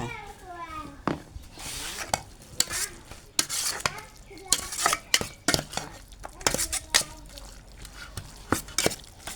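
Beef larb is stirred in a pan after toasted rice powder is added, making repeated scraping and clinking strokes of a utensil against the pan with a faint sizzle, while people, including a child, talk throughout.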